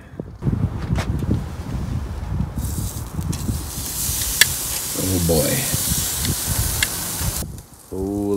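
Steady broadband sizzling of food on a hot charcoal grill, loud and continuous, with a man's brief exclamations at the start and near the end.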